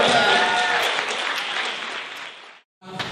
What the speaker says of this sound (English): And another round of applause for Nora.